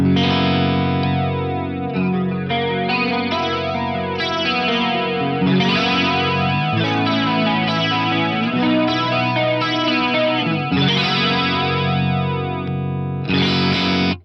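A loud, continuous electric guitar chord passage through an effect pedal with a Fractal FM9, with a swirling, modulated chorus-like effect and some grit, unbroken except for a brief gap near the end.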